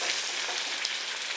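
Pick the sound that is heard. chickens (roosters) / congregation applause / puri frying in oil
puri frying in oil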